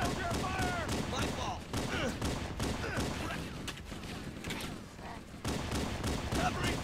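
Near-continuous gunfire in the video game Halo: Combat Evolved, rapid cracking bursts and volleys rattling steadily throughout, with a voice shouting over the shooting.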